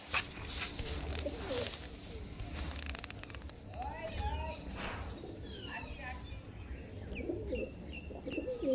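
A pair of pigeons, a male and a female, are held in hand and give soft, scattered coos and rustles up close, while someone talks over them through most of the stretch.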